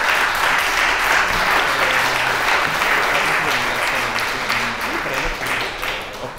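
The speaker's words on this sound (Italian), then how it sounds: "si è presa il suo giusto applauso" An audience at a conference in Bologna applauds warmly, a dense sustained clapping that gradually fades, with a voice speaking over it.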